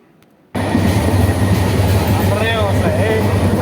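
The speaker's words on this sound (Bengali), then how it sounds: "তো তখন আমরা তাড়াতাড়ি করে কোনো রকমের ট্রেনের ভিতরে উঠছি।" Inside a crowded passenger train from Dhaka heading toward Sitakunda, a steady, loud rumble of wheels and carriage begins abruptly and continues without a break, with faint squeals and a few indistinct voices.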